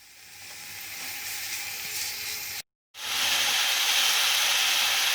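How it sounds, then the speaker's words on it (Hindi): Minced meat (keema) frying in hot oil with garlic and ginger gives a steady, loud sizzle that runs alone for over two seconds, drops out briefly, then returns even stronger and denser. "और इसको इतना फ्राई करूंगी कि कीमे का पानी खुश्क हो जाए।"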